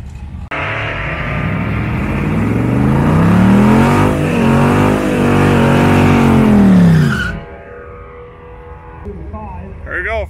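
A Buick drag race car launches down the strip at race week, a loud, sustained engine roar climbing in pitch over several seconds, then dropping away into a quieter idle in the distance.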